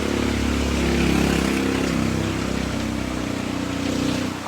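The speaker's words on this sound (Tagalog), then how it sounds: "Ang lakas ng ulan, oh." Heavy rain rushing steadily, close and loud, over a low droning hum that fades near the end.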